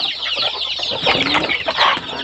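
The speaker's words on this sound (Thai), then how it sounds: "ไก่นะครับ" Chickens clucking steadily and close at evening feeding time, a dense flock chatter of overlapping calls with no talk.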